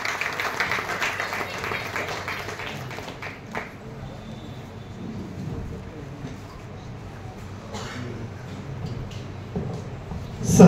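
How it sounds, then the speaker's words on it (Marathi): An audience claps at the Anubhav Pratishthan Anubhav Ratna award ceremony, a broad patter of hands early on that fades as a voice talks over the room. "जोरात टाळ्या वाजवून त्याचे सगळ्यांनी स्वागत व अभिनंदन करायचं आहे."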